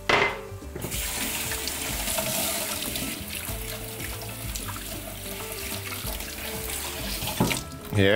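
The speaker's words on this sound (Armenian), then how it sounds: "Լվանում ենք հոսով ջրի տակ։" A cup of Maranik basmati rice is rinsed under a running kitchen tap, a steady gushing stream splashing into the grains and sink, starting abruptly after a brief quiet moment and running loud and continuous.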